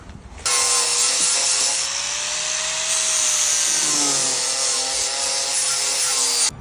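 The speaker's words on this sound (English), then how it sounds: "you go next with the flap wheel and the grinder, spend a few minutes, and clean flying this up." An angle grinder with a flap wheel smooths a metal amp rack for a 2024+ Harley Road Glide motorcycle, a loud, steady, close abrasive whine and hiss lasting several seconds without speech.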